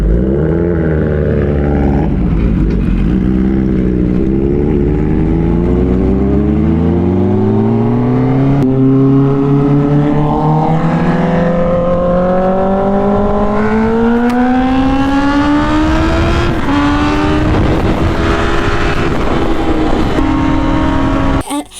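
A motorcycle engine revs up steadily close by, its pitch climbing over about twenty seconds as it accelerates, with brief gear-shift dips.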